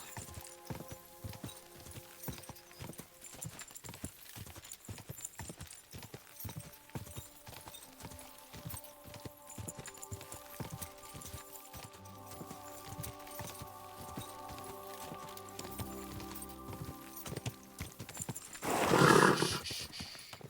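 Hooves clip-clop in a steady rhythm in the video game Kingdom Come: Deliverance II, joined by a low musical drone partway through, then a loud horse whinny near the end.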